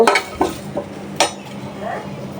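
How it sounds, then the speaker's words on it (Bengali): A utensil clinks and scrapes in a pan as chilies and onions are dry-roasted, a few sharp close knocks followed by quieter stirring. "ভর্তার জন্য মরিচ পেঁয়াজ সব কিছু টেলে নিলাম"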